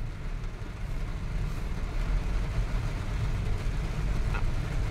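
Heavy traffic crawls along the EDSA flyover in strong rain, a dense, continuous low rumble of engines mixed with steady rain hiss, heard from inside a vehicle.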